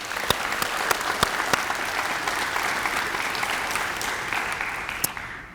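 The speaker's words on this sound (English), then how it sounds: "Let's give them a round of applause." Graduates at a graduation ceremony receive sustained applause from a large audience, a dense steady clapping that holds for several seconds with a few sharper individual claps standing out before it starts to thin.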